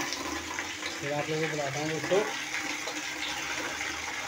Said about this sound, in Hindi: मैं लगाता हूँ पानी